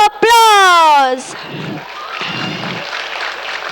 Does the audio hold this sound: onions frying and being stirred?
no